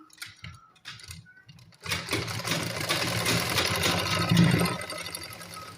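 A sewing machine stitches lace onto the slit of a kameez. A few faint taps come first, then the motor runs in a loud, steady buzzing rattle close by, with no talk.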